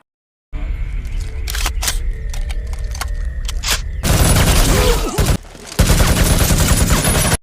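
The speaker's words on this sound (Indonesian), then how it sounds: "aksi tembak-tembakan pun dimulai" A film gunfight in a small village: sharp gunshots crack in irregular bursts, then a dense roar of rapid gunfire and explosions fills the scene, loud and chaotic, in a cinematic mix.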